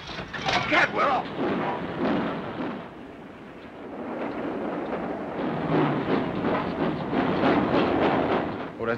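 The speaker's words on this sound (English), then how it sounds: "We've got to get this train going." Train starting to move in a 1938 film, a loud rumbling chug with heavy bursts that ease and then build again, mixed under voices and dramatic sound.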